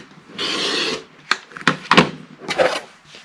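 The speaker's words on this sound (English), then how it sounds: "then you're going to trim this other side off." Fabric being trimmed for an 8.5 inch quilt half square triangle: a sustained rasping cut, then several short sharp snips and scrapes at close range, with no talk.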